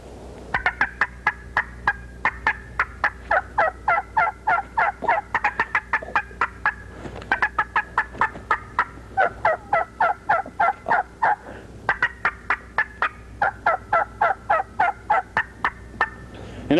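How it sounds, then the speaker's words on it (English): An old wild turkey gobbles in repeated bursts of rapid, rattling calls, loud and close, with short pauses between each series and no talking. "An old turkey."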